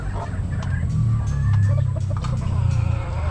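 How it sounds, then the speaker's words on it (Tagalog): Several chickens cluck and murmur nearby in a continuous low chorus, with occasional sharper calls rising over the steady farmyard background. "Ayun, ang ganda ng mga manok nila dito."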